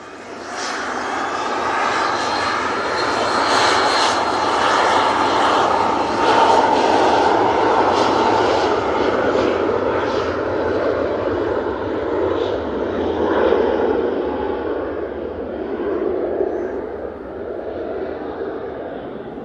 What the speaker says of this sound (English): Beautiful departure from that PC-24.